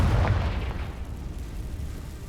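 A Confringo spell blast in Hogwarts Legacy goes off as one loud, deep, booming explosion that fades into a rumbling tail, with no voices.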